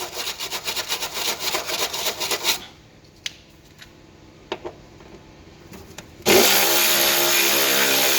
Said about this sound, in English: I'm going to give it a bit of a clean off first with the wire brush